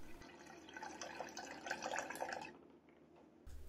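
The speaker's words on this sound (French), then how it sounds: "Je répartis ensuite cette solution nettoyante dans la cuve." Cleaning solution is poured into the tank of a Geekbes ZX-031 ultrasonic cleaner, a steady trickling splash for a couple of seconds that then stops, faint and close.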